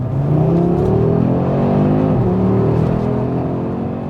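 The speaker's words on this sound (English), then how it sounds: "we have Audi's RS Sport exhaust, which absolutely sounds insane." An Audi RS3's RS Sport exhaust revs up loudly nearby, the engine note rising and falling in a deep, throaty rumble with a brief dip midway.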